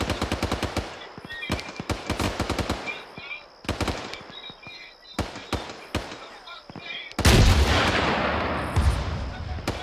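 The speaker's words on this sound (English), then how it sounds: "Rocket, rocket, rocket." Sharp gunfire cracks and bursts fire in rapid volleys during infantry squad training, then a rocket launcher lets go with a loud, sustained roaring blast that trails off over several seconds, with some voices under the shooting.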